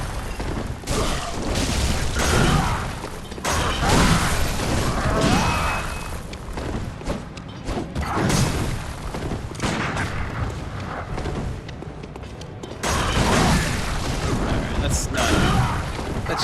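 Pistol fire in Bloodborne rings out as repeated sharp bangs and booming impacts amid dense combat noise, with a voice speaking over parts of the action.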